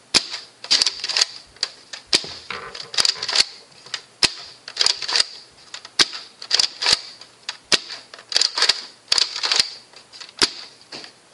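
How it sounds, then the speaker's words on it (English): A custom Nerf Longstrike blaster fires foam darts over and over, each shot a sharp close snap mixed with clacking priming strokes, steady and loud, and no one speaks. "I will fire it a few times."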